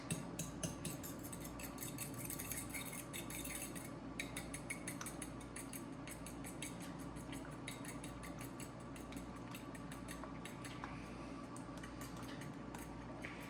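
Whisk beating eggs in a bowl for fresh pasta dough, a rapid continuous clicking and tapping kept up steadily at moderate volume, with no talking.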